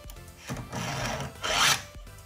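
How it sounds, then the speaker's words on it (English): A hand file rasps across the teeth of a Husqvarna chainsaw chain in a few short, gritty strokes, the last one louder and brighter, recorded up close without talk. "And all you're doing is just sharpening those two teeth."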